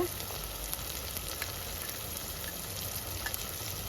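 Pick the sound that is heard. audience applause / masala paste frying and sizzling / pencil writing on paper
masala paste frying and sizzling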